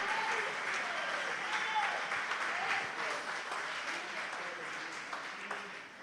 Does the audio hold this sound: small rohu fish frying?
no